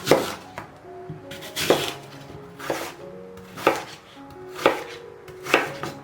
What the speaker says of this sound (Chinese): 把它洗干净，然后给它切成小块